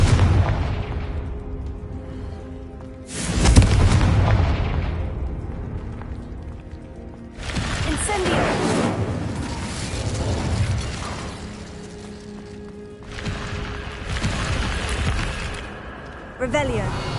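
Spell explosions from Hogwarts Legacy gameplay burst out as loud booming blasts around 3.5 and 8 seconds, with further rumbling impacts and mechanical clatter filling the rest of the stretch.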